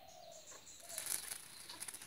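Soft, quick flapping of a long-tailed shrike's wings in bursts, with faint chirps, heard close and quiet with no talking.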